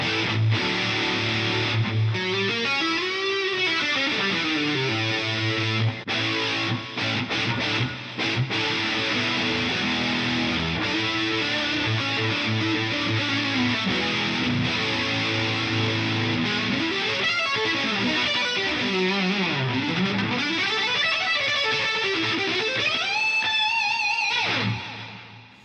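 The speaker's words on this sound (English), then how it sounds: "Distortion 80. That's kind of a lot of distortion." Heavily distorted electric guitar run through a Roland GP-16 guitar processor with the distortion set high, playing sustained, saturated chords and bending lead lines, loud and continuous with no talking.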